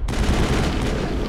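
Gunfire in the Mass Effect video game, a dense burst of loud shots filling the short moment with no talking over it.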